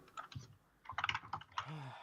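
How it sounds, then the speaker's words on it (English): Typing on a computer keyboard, with bursts of close clicking keystrokes over about two seconds. "I can hear you typing"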